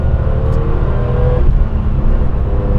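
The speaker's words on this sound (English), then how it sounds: "The sound of the car, classic air-cooled sound." A 1998 Porsche 911 Turbo S (993) air-cooled flat-six heard from inside the cabin, a loud, steady engine drone and rumble with no voices.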